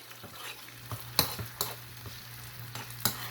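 Chilli garlic chicken gets stirred in a pan, a spoon scraping and tapping in uneven strokes over a soft sizzle, close and fairly quiet with no talking.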